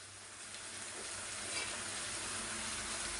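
Crushed peeled garlic frying in a pan, a steady quiet hiss of sizzling oil that holds evenly the whole time with no other sounds.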